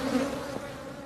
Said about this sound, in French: les abeilles semblent un peu agressives